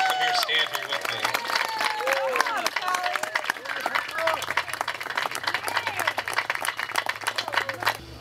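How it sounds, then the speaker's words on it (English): A crowd claps and cheers continuously, a dense wash of applause filling the whole stretch. "I want to give him a round of applause."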